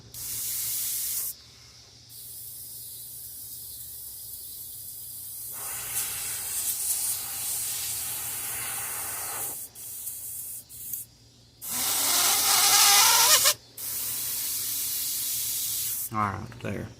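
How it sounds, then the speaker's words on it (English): An airbrush sprays thinned olive green Apple Barrel acrylic paint onto a fishing lure with a steady close hiss that stops and restarts in several bursts, including one louder, harsher blast near the end. "Now I've got it spraying"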